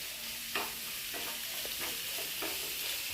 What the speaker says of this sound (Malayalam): നമുക്ക് അരിഞ്ഞ് വെച്ചേക്കുന്ന സവാള ഇടാം.